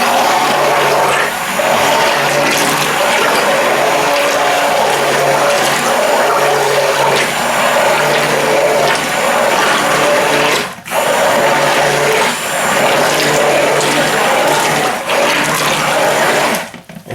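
A blender on its lowest setting whirs steadily through a batch of bar soap, a continuous close motor whine with a few brief dips and pauses.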